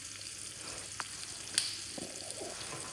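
Chopped onion with thyme, rosemary and basil sizzles in hot vegetable oil, a steady close crackle broken by a couple of sharp taps and scrapes as the pan is stirred.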